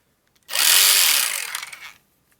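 An Ingersoll Rand Redi-Ratchet air ratchet, converted from 3/8" to 1/2", runs in one loud, close burst of about a second and a half, whirring hard before winding down, with no voices.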